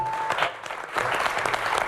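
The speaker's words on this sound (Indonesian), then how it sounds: "kita berikan tepuk tangan" A studio audience at an Indonesian political talk show claps for an arriving guest. The applause is brief and moderate and sounds slightly distant.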